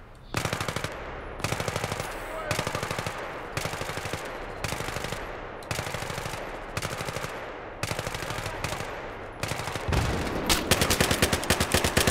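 Automatic weapon fire in the video game Battlefield 3, loud repeated bursts of machine-gun shots spaced about a second apart, ending in a longer sustained volley.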